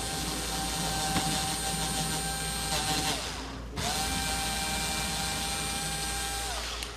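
A surgical drill fitted with a 4.5 mm bit bores a hole during an orthopedic tightrope procedure, making a close, high whine in two sustained runs with a brief pause between.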